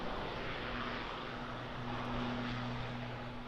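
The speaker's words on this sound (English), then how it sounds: "Aer Lingus, operated by Emirates Airlines, ATR 72 off to Belfast." Aer Lingus ATR 72 turboprop airliner departing Birmingham Airport, a steady distant propeller and engine roar with a constant low droning hum, faint and continuous throughout with no talk.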